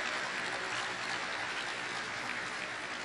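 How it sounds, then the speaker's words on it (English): An audience at a formal event claps for the Governor of Benue State, dense sustained applause from many hands that holds at an even level for the whole stretch. "please continue to clap for His Excellency until he takes the mic"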